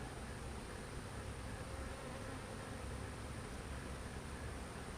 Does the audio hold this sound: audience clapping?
no